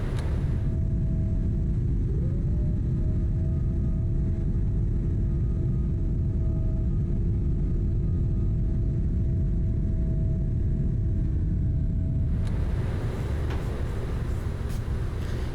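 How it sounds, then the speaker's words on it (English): Landing gear of a PMDG 777-300ER extends in a flight simulator, a loud, steady low rumble with a whining tone that slides in pitch and then stops, followed by a shift in the airflow noise. "We're going to go gear down"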